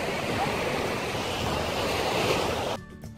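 Sea waves wash and roar steadily on the beach at Paralia, with a breezy rush over the microphone, before the sound drops away abruptly near the end.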